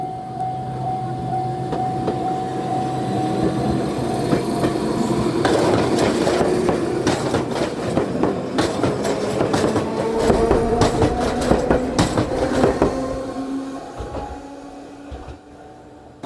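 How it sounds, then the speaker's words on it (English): An Enoden electric train heads toward Fujisawa past a railroad crossing near Enoshima, a sustained bell tone giving way to loud wheel rumble and rhythmic clacking over the rails before it fades away. "This is the Enoden heading towards Fujisawa."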